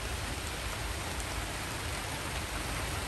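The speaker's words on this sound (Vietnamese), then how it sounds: "Thôi mưa quá trời, về anh em ơi." Heavy rain pours down at a riverside fishing spot, a steady, even wash of drops hitting surfaces, close and continuous with no breaks or talking.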